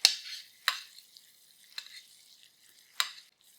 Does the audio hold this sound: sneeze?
no